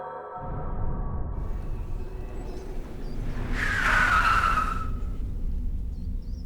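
A car skids to a stop with one sharp tire screech partway through, rising over a steady engine rumble and road noise. No one speaks.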